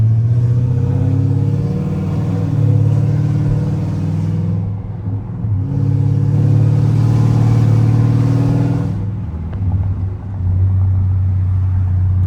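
Chevrolet Camaro SS fitted with aftermarket headers, its engine loud and close, a deep steady rumble swelling into two long revs with a brief dip between them.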